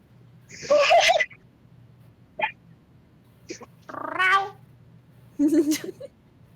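A kitten meows several times in short, separate, high-pitched cries with pauses between them, clear against a quiet background hum.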